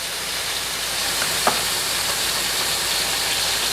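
Honey lime chicken pieces frying in a skillet give a steady, even sizzle and hiss throughout, with one brief crackle partway through and no talking.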